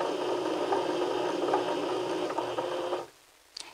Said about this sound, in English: when you press onto the foot pedal of your sewing machine, then the feed dogs move up and down